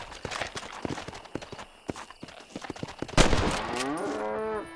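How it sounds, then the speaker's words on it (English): A long, drawn-out cow moo with wavering pitch, from the video game Red Dead Redemption, follows a stretch of busy clattering and hoof-like knocks, ending loud and close. "the long moo."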